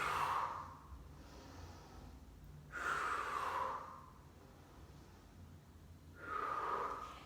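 Three slow, loud breaths, each a forceful exhale with some rushing air, come close up during a dynamic stretching exercise, spaced a few seconds apart over a quiet room.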